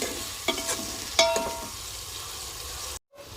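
Soft, steady sizzling of onions browning in oil, with a few light clinks of a utensil stirring the pan, ending abruptly.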